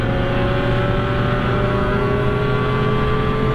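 A motorcycle engine on a group ride with superbikes runs at steady high speed, a loud continuous drone with strong wind rush and no voices.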